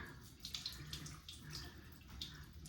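Cold water running from a tap splashing steadily into a sink, with light clinks and drips over the flow, close by and fairly quiet.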